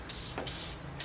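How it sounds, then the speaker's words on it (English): Silicone aerosol sprays onto a lower radiator hose of a 2001 Mitsubishi Eclipse in two close, loud hissing bursts with a short gap, and a third burst begins at the end, with no talking. "So I'll take a little bit of silicone spray"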